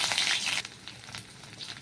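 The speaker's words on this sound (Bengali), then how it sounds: "ওই তেলের মধ্যে দেখো দিয়ে দিচ্ছি 1 চামচ রসুন পেস্ট" A spoonful of garlic paste hits hot oil in a kadhai with a loud, hissing sizzle that settles into a quieter, steady crackle over a couple of seconds.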